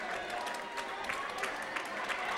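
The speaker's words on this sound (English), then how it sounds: "with 20 seconds left, this crowd is getting pumped" Basketball crowd at a high school game between the SKHS Wolves and Central Kitsap Cougars, cheering and applauding steadily throughout, with a dense roar of clapping and shouts in a gym.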